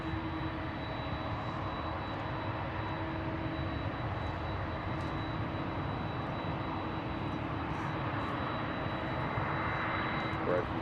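A jet airliner takes off from Seattle airport, its engines making a loud, steady broadband roar that holds for the whole stretch, with a faint voice underneath.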